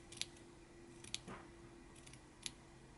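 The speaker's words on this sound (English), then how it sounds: "I am just kind of every so often cutting these edges." Scissors snip along fabric edges during sewing, a few faint, sharp clicks spaced irregularly in an otherwise quiet room.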